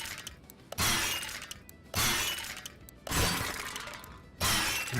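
A battery gets smashed for scrap in the video game Car Mechanic Simulator 2021, heard as four loud crunching, shattering impacts at regular intervals over a continuous noisy background.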